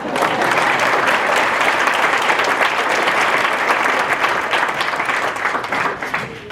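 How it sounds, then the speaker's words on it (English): Sustained, dense applause fills a hall at the Russell County Superintendent's Award of Excellence evening, a steady round of clapping from the crowd that holds for several seconds and eases slightly toward the end. "Give me a round of applause."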